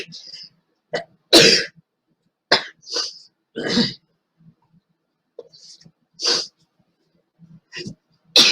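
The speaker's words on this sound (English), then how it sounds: "Pardon me for sneezing." A person sneezes indoors in short, sharp bursts spread across several seconds, separated by silent gaps, with breathy throat noises between them.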